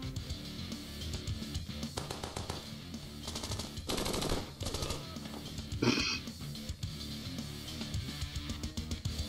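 Rapid automatic gunfire from the Fallout video game, several bursts of machine-gun fire rattling over a steady game soundtrack, with louder volleys partway through.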